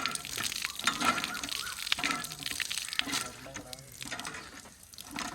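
Water gushing and splashing from a hand pump in a rural Indian village, an irregular run of spurts and drips close by, with faint background voices.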